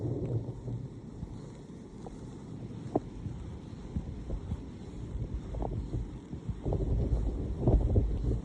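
Wind gusts over open water during kayak fishing for trout, a rumbling, buffeting roar on the microphone that swells toward the end, with faint splashes and knocks.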